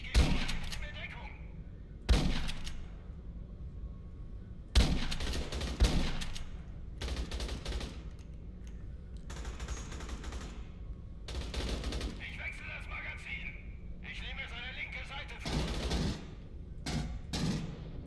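Gunfire rattles through a sci-fi shooter game set aboard the ship Sulaco in Aliens: Colonial Marines, with repeated bursts of automatic shots and sharp single cracks spread across the stretch, alongside game sounds.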